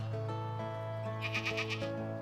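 Goats and sheep bleat in a farm enclosure, a short run of wavering calls rising above a steady low hum, moderately close.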